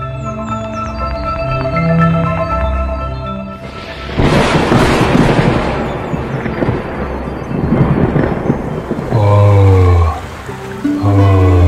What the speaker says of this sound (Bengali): হঠাৎ করে এত বৃষ্টি শুরু হয়ে গেল।